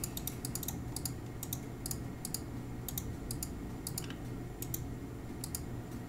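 A computer mouse clicks repeatedly during a RuneScape Ironman session, with sharp, quick clicks that come singly and in quick pairs over a low steady hum, close and with no talking.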